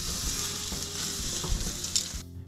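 Steaks sear loudly on a Napoleon Phantom grill just after being flipped, a steady close hiss and crackle that runs throughout, then cuts off abruptly near the end.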